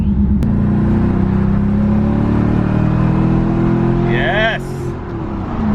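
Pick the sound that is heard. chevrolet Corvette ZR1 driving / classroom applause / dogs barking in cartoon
chevrolet Corvette ZR1 driving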